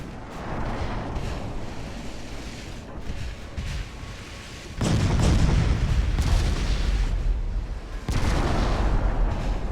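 Heavy warship guns of an 1890s-era hull fire in Ultimate Admiral: Dreadnoughts, deep booming salvos that swell into a sustained rumble, with a fresh loud blast near the end and no talking.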